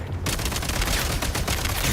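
Dense, rapid gunfire from a shooter video game bursts in after a brief quiet start, continuing loud and unbroken as a thick, crackling volley.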